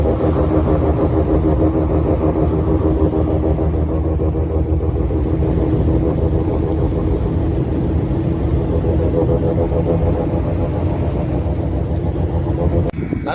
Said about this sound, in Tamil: அசந்து அப்படி ஸ்லோல வண்டி அதுல போகும்போது சரியான சவுண்டு, ஆளே பயப்படுற அளவுக்கு ஒரு சவுண்ட் கொடுக்கும்.